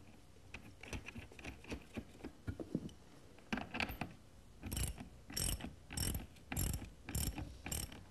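A 3/8-inch carriage bolt and locking nut are cranked tight with a ratchet on a redwood lounge chair, first as scattered clicks, then as about six loud, evenly spaced bursts of ratcheting strokes up close.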